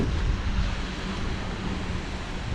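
Steady, dense roar of a waterfall in a tunnel on the way to Baguio, Philippines, loud and continuous without a break, with a windy rumble mixed in.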